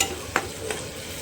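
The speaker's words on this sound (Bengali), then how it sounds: "গ্যাসের ফ্লেমটা একটু বাড়িয়ে দেবো, এটা একটু ভালো করে কষতে থাকে।" Onion-tomato masala for a fish posto curry sautéing in a pan over a raised gas flame, a soft sizzle with two brief stirring scrapes, close and quiet, no voices.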